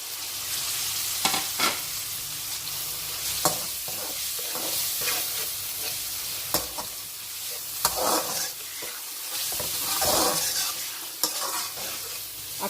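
Chicken pieces fry in a tomato masala in a pan, giving a continuous bright sizzle with repeated sharp scraping clicks from stirring throughout.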